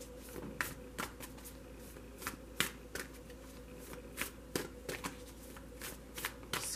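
Tarot cards are shuffled in quick, crisp riffles, sharp bursts repeating at irregular intervals close to the listener, with no talking.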